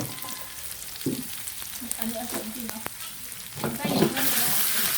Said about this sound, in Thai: ผัดพริกแกงให้ได้ครับ